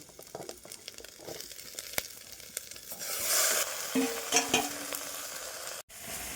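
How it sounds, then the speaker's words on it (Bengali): Marinated mutton going into a pan with a little oil, setting off a loud rising sizzle around the middle, with stirring clatter and a brief utensil scrape before and after; no talk. "সামান্য তেলেই রান্না হচ্ছে মেরিনেট করা মাটনটা দিয়ে দিচ্ছি"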